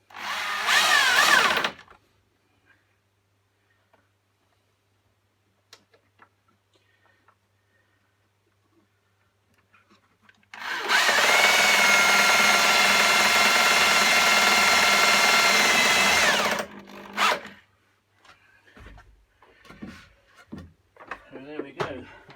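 A power drill bores into wood during a narrowboat fit-out, with a short close burst at the start, then a steady loud run of about six seconds; scattered handling knocks and clatter come between and after.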